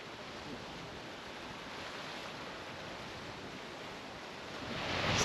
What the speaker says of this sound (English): listen to the peaceful sounds of the waves crashing on the rocks